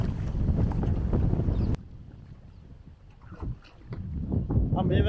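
A small boat circling on water sends a constant rumble of motor and wind noise, loud at first, then dropping to a quieter wash before swelling again.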